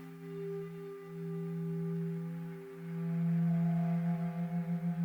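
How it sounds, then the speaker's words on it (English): Steady synthesizer tones with stacked harmonics, modulated by an Ableton LFO, their pitch wobbling slowly, then pulsing faster and rhythmically toward the end. "now you can hear the tones shifting back and forth here"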